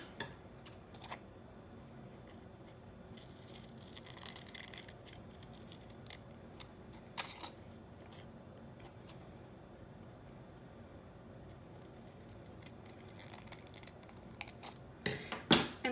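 Scissors cut paper to make a tessellation, with quiet, sparse snips that turn into a quick, louder run of cuts at the end in a calm indoor room.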